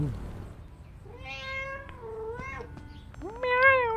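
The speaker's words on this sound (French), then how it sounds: "Oh, on peut caresser le chat" A cartoon cat in the Five Nights at Freddy's: Into the Pit video game meows several times in drawn-out, rising calls when petted, clear and close over a low ambient background.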